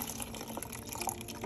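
Water is poured gently out of a Disney Cinderella snow globe, a steady close trickle and splash with small drips throughout, no voices.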